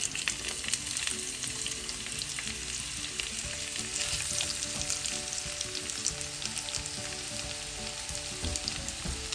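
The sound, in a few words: onions frying in a pan for biryani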